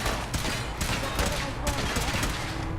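Gunfire in the video game Fallout 4, with dense, loud bursts of shots and a sniper firing amid the chaos, continuous throughout without clear pauses.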